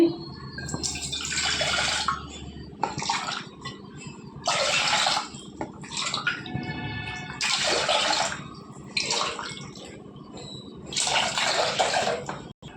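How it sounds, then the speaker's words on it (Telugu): Water is poured from a glass into a pot four times in separate bursts, each splashing pour lasting a couple of seconds with short quiet gaps between, close by in a home kitchen. "నాలుగు గ్లాసులు వాటర్ వేసుకోవాలి"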